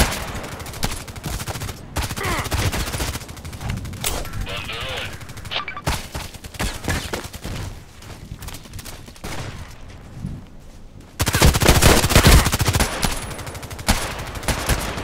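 Machine gun fire in the shooter game Contract Wars, close and loud, with rapid sustained bursts and short pauses, then a heavier continuous burst near the end, with someone talking at times over it.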